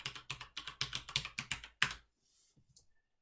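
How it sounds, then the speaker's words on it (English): A computer keyboard typed on up close, about ten crisp keystrokes in a quick, even run, the final one a harder press, then near silence. "Type in electrical, hit enter in the search criteria."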